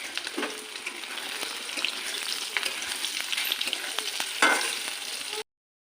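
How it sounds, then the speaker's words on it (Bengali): Paneer pieces frying in hot oil in a kadai give a steady close sizzle with light stirring scrapes and a couple of louder bursts, then cut off to silence near the end. "বন্ধুরা দেখো, পনিরগুলো ভাজা হচ্ছে।"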